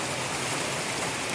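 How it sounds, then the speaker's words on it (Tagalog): Heavy typhoon rain pours down in Camarines Sur, a dense, unbroken hiss of water striking surfaces without a pause. "Grabe ang ulan, guys,"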